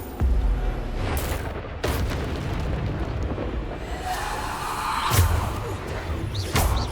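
A Descendo spell cast in Hogwarts Legacy sets off a continuous stretch of loud, rumbling magical blasts and crashes, with heavy booming impacts at the start, near the two-second mark and around five seconds, and a swelling whoosh between.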